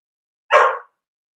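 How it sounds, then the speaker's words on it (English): A pet dog gives a single short, sharp bark, close and loud, standing alone against silence. "And then she barks until she gets her own way"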